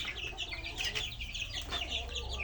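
A small flock of chickens with young clucks softly and continuously, with scattered higher peeps and murmurs. The sound is faint and somewhat distant.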